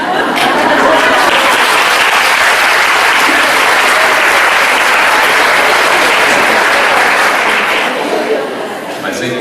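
An audience of women at a Spiritist lecture in Anápolis breaks into loud, sustained applause that fills the hall for several seconds before tapering off near the end.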